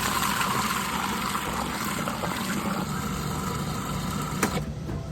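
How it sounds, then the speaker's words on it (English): Food processor blending a coconut cream frosting for carrot cake, a steady whirring motor hum with a wet churning texture, close and continuous before cutting out near the end. "You don't want to over mix it with the food processor"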